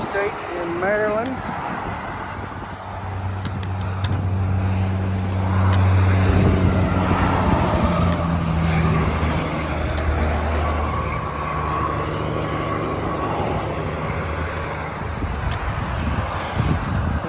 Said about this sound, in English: Lots of crazy traffic.